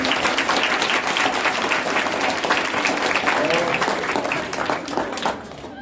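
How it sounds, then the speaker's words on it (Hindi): Loud, sustained audience clapping at a school award function and topper celebration, a dense crowd roar that tapers near the end, with a voice heard over it. "आप लोग सभी इनके लिए एक बार ताली बजाएं"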